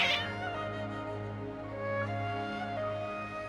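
Hostile cats meow and yowl in a video game, drawn out and gliding over a steady bed of sustained game music that runs throughout. No voices.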